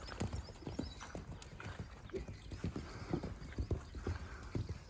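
A horse gallops with rapid, steady clip-clopping hoofbeats, close and continuous, with a brief whinny-like call mixed into the rhythm.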